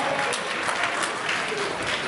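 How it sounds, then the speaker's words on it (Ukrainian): A concert audience in Ternopil applauding at a charity auction, dense steady clapping from a crowd, close and even for a couple of seconds. "Аплодисменти, друзі, ходіть, ходіть, ходіть сюди."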